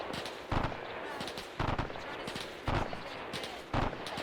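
Bursts of gunfire from an Arma 3 WW2 battle sound in four sharp volleys roughly a second apart over a steady background rumble, moderately loud and close.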